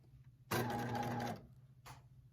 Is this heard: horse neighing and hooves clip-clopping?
no